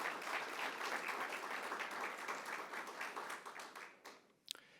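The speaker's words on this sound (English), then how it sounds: "Can we give them a round of applause?" Audience applause at a city State of the City event, a dense, steady crowd clapping heard close and loud, then tapering off into a few scattered claps at the end.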